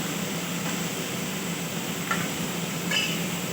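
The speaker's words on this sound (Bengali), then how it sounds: "এভাবে ভালোভাবে কষিয়ে নেব তেল দিয়ে" Shaluk (water lily) stalks sautéing in oil in a pan, a steady dense sizzle throughout with a couple of faint stirring scrapes, close and even, no voices.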